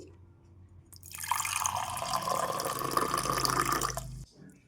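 Warm water poured into a cup in a home kitchen, a steady close splashing and trickling pour lasting about three seconds and then stopping abruptly.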